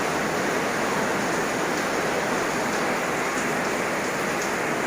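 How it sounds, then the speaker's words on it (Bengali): Heavy rain from Cyclone Remal pours down in a constant dense hiss, loud and unbroken, with no voices. "আবার বৃষ্টি শুরু হয়ে গেছে আবার বৃষ্টি পড়া শুরু হচ্ছে"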